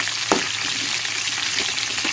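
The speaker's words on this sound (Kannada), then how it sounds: "ಸ್ವಲ್ಪ ಹಸಿಮೆಣಸಿನ್ಕಾಯಿ ಚೆನ್ನಾಗಿ ರೋಸ್ಟ್ ಆಗಬೇಕು" Green chillies roast in a hot pan for raw mango rice, giving a steady, close, crackling sizzle with a single sharp tap near the start.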